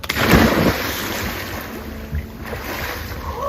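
Bathers jump from a floating sauna in Oslo, Norway, into cold, salty sea water: a sharp splash up close followed by sloshing water and lapping waves, with no talking.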